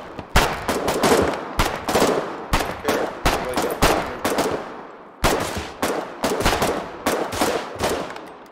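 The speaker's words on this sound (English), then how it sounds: "they're shooting me." Rapid bursts of automatic gunfire from the war game Foxhole crackle loud and close, in repeated volleys of sharp shots separated by brief pauses, with no talk over them.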